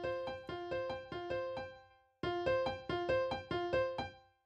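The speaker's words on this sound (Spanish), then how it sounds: "Sin efecto suena así." A piano played dry in FL Studio with no effect: two short phrases of repeated, evenly spaced chords, each note striking cleanly and decaying, with a brief silent gap between phrases.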